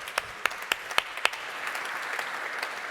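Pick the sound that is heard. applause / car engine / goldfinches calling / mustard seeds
applause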